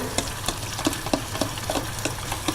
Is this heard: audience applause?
no